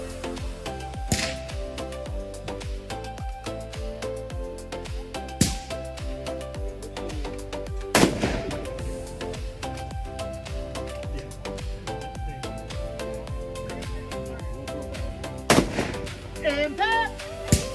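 Rifle shots ring out at a steel-target shooting match on a farm, several sharp cracks spaced seconds apart over a low steady hum, each followed by the faint ping of a bullet striking steel; a voice speaks at times.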